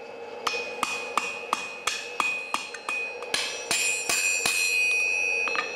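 A hammer forges the cutting lips of a hand auger on an anvil, about a dozen sharp ringing metallic blows at a steady pace, close and loud, with no speech.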